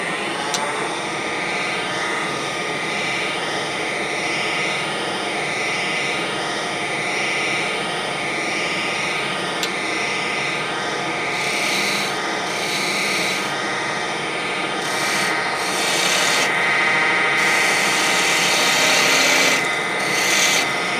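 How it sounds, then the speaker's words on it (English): A 3/8 spindle gouge cuts a wood finial spinning on a lathe, giving a steady, continuous scraping and rasping hiss that runs the whole time at close range, with a constant motor hum underneath and no talk. "I'm just using my 3/8 spindle gouge."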